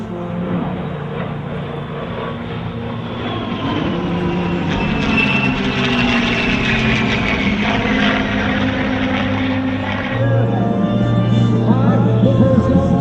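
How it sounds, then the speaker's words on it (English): A US Air Force Heritage Flight formation passes over the 2005 Bergen airshow, producing a loud, continuous engine drone that swells and shifts in pitch as it flies by, with no talk over it. "Air Combat Command proudly brings you the United States Air Force Heritage Flight"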